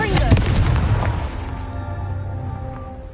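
A Confringo fire spell goes off in Hogwarts Legacy as a loud, close blast with a sharp crack, followed by a rumbling boom that fades out over a few seconds.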